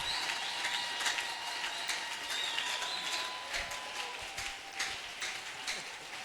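Audience applauding at a couples' conference led by an apostle, a steady dense wash of clapping with scattered louder claps, sustained throughout and no clear voices.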